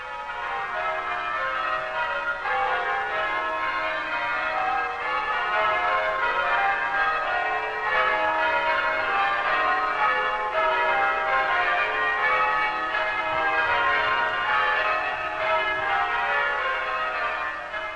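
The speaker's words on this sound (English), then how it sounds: "to see the other ropes that are falling as I ring, and to pull my bell into its correct position in relation to the others" Church tower bells pealed by a team of bell ringers pulling ropes, a loud continuous cascade of overlapping bell strikes ringing in steady sequence for the whole stretch, with no talking.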